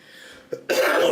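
A person recovering from the flu coughs, a short throaty cough followed by a louder, rougher burst of coughing, close and alone with no talking.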